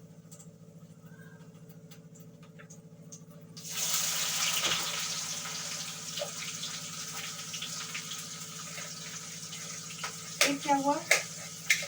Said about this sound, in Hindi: मैंने जीरा डाल दिया, अब मैं इसमें प्याज डाल दूँ और लहसुन डाल दूँ।